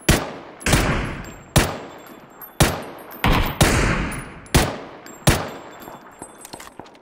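Gunfire in the video game PUBG on PC: about eight loud, sharp shots in an uneven sequence, each with a quick decaying tail, with no talk over them.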